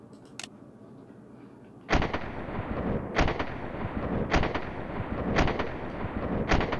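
A WOG Calico M100 airsoft gun fires five sharp, close single shots at roughly one-second intervals over a low background, with no talking.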